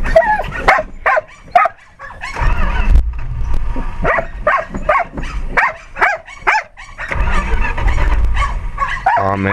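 Several dogs bark repeatedly and loudly nearby in quick, irregular bursts, some high and yappy, overlapping and continuing for nearly ten seconds with a low rumble underneath.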